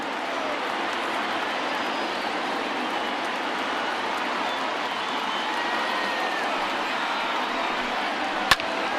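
A large stadium crowd roars continuously in the MLB The Show 20 baseball video game, a broad steady wash of cheering that holds loud and even throughout, with a single sharp crack near the end.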